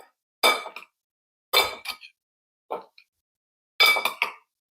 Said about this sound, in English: I'm going to add a little bit on the lettuce, like 2 teaspoons, and mix so that it's covering all the salad